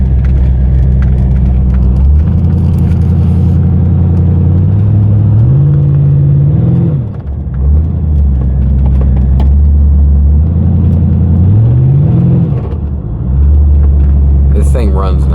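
A 1995 Chevrolet Corvette C4 engine runs steadily up close in cold weather, with a couple of rising revs and a brief dip near the middle; someone talks over the continuous rumble.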